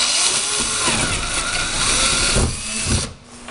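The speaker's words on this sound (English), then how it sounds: "To mount the bushing, you're going to drill a hole wherever you'd like in your incubator." A power drill whirs loudly and continuously, drilling a hole in a cabinet-style egg incubator, its motor pitch wavering as it bites, then briefly easing off near the end.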